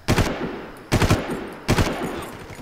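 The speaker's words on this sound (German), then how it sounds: "wer schießt denn hier schon wieder?" Three loud bursts of automatic weapon fire from the video game Far Cry, each short and evenly spaced about a second apart, close and punchy.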